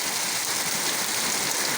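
Heavy rain pours steadily at a farm in Padre Garcia, Batangas, during a typhoon, a dense, even hiss with no breaks and no voices.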